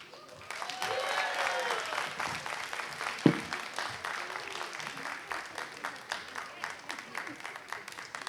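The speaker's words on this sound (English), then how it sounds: "A really wonderful performance. Can we please give them a louder round of applause, please?" An audience at an alumni reunion entertainment evening applauds a performance. Dense clapping holds through the whole stretch, with a sharp clap spike partway in, and a voice can be heard over it.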